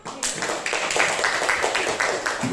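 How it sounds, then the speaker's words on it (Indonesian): A classroom audience claps for a student group after their presentation, a short burst of light, fairly even applause from a small group. "Beri aplaus untuk kelompok."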